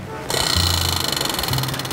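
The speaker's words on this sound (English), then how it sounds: "Can we spin our prize wheel?" A spun prize wheel gives a fast, steady ticking clatter that starts abruptly and keeps going, with a low hum and a faint voice underneath.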